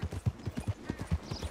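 A horse's hooves clip-clop steadily at a brisk walk in the online mode of the video game Red Dead Redemption 2, a fairly soft, even rhythm of close hoofbeats with no voices.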